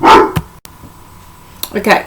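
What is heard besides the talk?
dog barking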